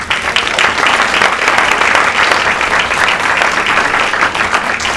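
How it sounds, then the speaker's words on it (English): An audience at a school senior class meeting breaks into loud, dense applause, many hands clapping steadily for about five seconds without letting up. "So a round of applause to them."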